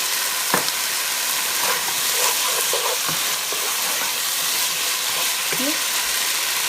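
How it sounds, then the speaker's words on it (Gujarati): Ground beef curry fries in a pan with a loud, dense, constant sizzle and a few scattered scraping taps from stirring. "આ ટાઈમે તમે ફાઇન રીતે એને ફ્રાય કરો."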